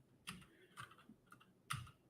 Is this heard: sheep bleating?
no